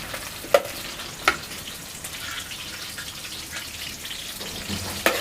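Green chillies sizzle steadily in hot oil with the browned onions from a fish curry base. A continuous close frying hiss is broken by a few sharp pops or clinks near the start and the end.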